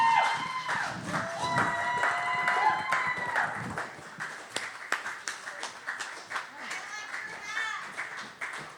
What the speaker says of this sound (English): please give a huge round of applause to Angel Walker